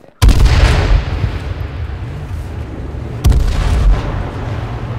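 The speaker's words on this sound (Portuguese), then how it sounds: "Matando na granada." Two heavy grenade blasts in H1Z1 King of the Kill: a loud, close boom at the start with a rumbling tail, then a second boom a few seconds later over a lingering low rumble.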